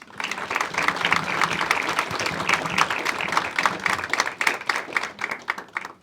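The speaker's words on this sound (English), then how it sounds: "Give her a round of applause." Audience applause greets a newly hired special education teacher at a school board of education meeting, a steady dense clapping from a seated crowd lasting about six seconds at moderate loudness.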